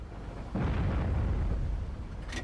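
A tank cannon fires in a tank video game, one deep booming blast that rolls on for over a second before a faint high metallic ring near the end.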